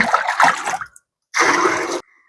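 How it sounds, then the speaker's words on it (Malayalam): Homemade liquid fertilizer poured from a container onto potted plants, a steady close splash of liquid in two bursts with a short pause between, the first burst louder and more broken. "ഇത് ഒഴിക്കാൻ പറ്റുന്ന ചെടികൾക്കൊക്കെ ഞാനിപ്പോൾ ഒഴിച്ചു കൊടുക്കുവേ"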